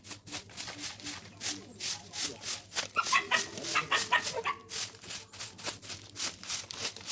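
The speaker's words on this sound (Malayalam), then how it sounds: "ഞാൻ ഈ തൂത്തുവാരിക്കൊണ്ടിരിക്കുന്നതിനാ പട്ടികൾ കിടന്ന് ബഹളം വെക്കുന്നത്" Dogs barking repeatedly in a home yard while a broom sweeps fallen dry leaves, the sweeping strokes rasping in a steady rhythm underneath, with some clucking chickens nearby.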